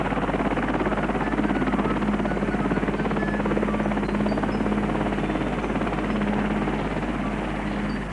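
An RAF helicopter carries the spire for the Ashridge College chapel through turbulent winds over Dunstable Downs, its rotor and engine giving a loud, steady, continuous drone with a constant beating throb that never lets up.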